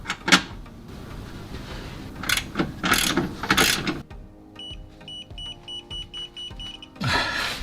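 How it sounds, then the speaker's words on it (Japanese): A socket wrench ratchets close by as a rubber-bushed lower arm bolt on a Suzuki Every DA64V van is tightened, giving bursts of rapid clicking followed by quieter, slower single clicks toward the end, with no talk. "今まだボルトを締め付けてる最中ですけど"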